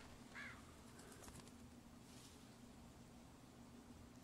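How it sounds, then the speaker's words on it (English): Faint crow-like caws from a bird in The Walking Dead video game, two short calls, rise over steady low hiss and hum, sounding distant and thin. "Oh, don't shoot the bird."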